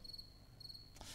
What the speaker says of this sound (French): c'est le chant diurne du grillon champêtre.